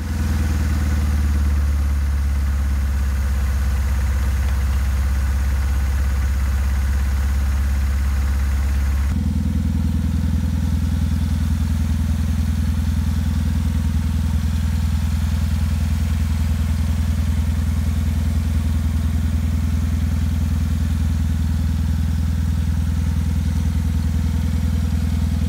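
A Saturn car engine idles with cylinders 2 and 3 deactivated, giving a loud, close, steady low rumble with fine clattering pulses that shifts to a slightly different tone partway through.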